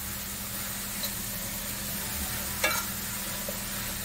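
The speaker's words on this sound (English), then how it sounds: "And you're just gonna stir this." Vegetables with pecans sautéing in a pan, a soft steady sizzle with an occasional scrape of a utensil stirring, fairly quiet and without talk.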